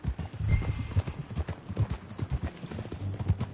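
Rhythmic clip-clop of horse hooves at a walking pace in Red Dead Redemption 2, close and fairly even, with a soft ambient bed beneath.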